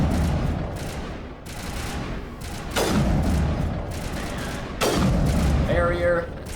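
Rapid bursts of gunfire and booming shots in Mass Effect, during a Mako-based mission to rescue Liara, hit in several loud volleys with sharp attacks and ringing tails, while a voice talks throughout.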